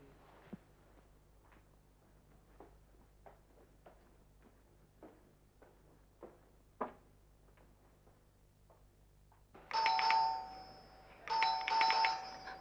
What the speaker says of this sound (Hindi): आगे कौन है पता नहीं कितना घंटी बजाएगा